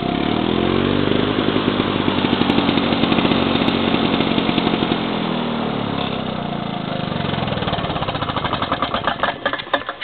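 A rebuilt Victa lawn mower engine runs loud and close, a rapid steady putter with slight rises and dips in speed, sputtering unevenly near the end, with no voices.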